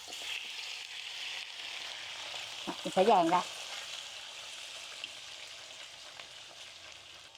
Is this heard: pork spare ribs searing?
yes